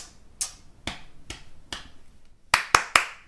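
Children's hands clapping in a dance routine, four evenly spaced claps followed by a quicker burst of three sharper, louder claps, close and alone.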